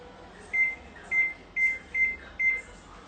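A microwave oven beeps five times in an even rhythm, each tone short and clear over a low background hum.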